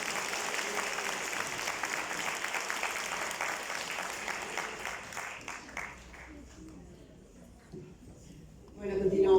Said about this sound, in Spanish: Y quiero que se den un fuerte aplauso porque ustedes son maravillosos